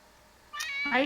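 A cat meows in a clear, rising call that starts about halfway through and swells louder toward the end, close and alone over a faint background.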